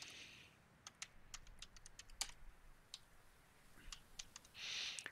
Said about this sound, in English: we've hit every key on the keyboard